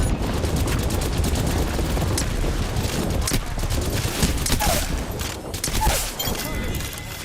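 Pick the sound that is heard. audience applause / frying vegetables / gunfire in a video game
gunfire in a video game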